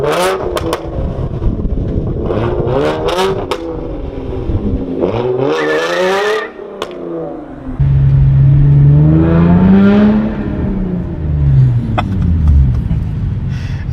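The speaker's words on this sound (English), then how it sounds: "a straight pipe V6, I mean, it sounds like a VQ motor. It sounds great." Raw, throaty engine blips and revs from a loud straight-piped 3.8 V6 Hyundai Genesis Coupe R-Spec, sharp bursts early, a lull, then a long rising rev that settles back down.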